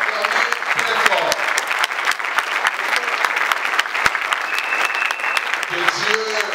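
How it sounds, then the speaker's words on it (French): A large rally crowd applauds and cheers for Félix Tshisekedi, producing loud, sustained clapping that never lets up. Sharp individual claps stand out against the roar, and voices carry through the noise. "je demande de l'acclamer très fort"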